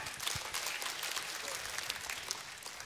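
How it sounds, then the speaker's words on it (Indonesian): An audience at a Jakarta government event claps together, a faint, steady wash of applause lasting a few seconds with no one speaking over it. "Boleh tepuk tangan untuk kita semua."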